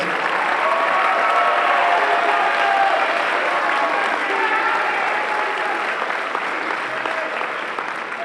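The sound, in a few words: audience applause for seniors at school band concert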